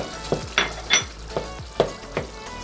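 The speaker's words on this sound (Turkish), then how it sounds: "gördüğünüz gibi soğanlarım da kavruluyor" Onions frying in a pan for a minced-meat börek filling, a soft sizzle punctuated by six distinct spatula clacks and scrapes against the pan at an uneven rhythm, close and clear, with no talking.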